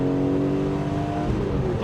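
A BMW M3 E46 CS engine pulls under acceleration, a loud, close and steady drone with rising harmonics through the whole short burst.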